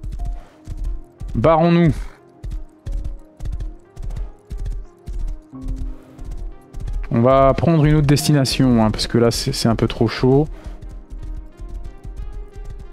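Horse hooves clip-clopping in the video game Rust, a steady, fairly close rhythmic patter running throughout while someone talks over it in French at several points.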